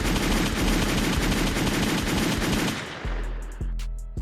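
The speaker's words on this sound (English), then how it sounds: "Get some gunshots so we get out of here." Gunshot sound effects: rapid machine-gun fire in a dense, loud burst that ends with a few separate heavy shots, with no voices over it.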